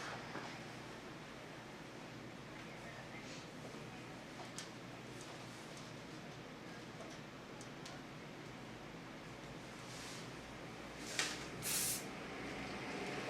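Shaper spray hisses onto a sew-in hairstyle in two short, sharp bursts near the end, after a long stretch of quiet room noise.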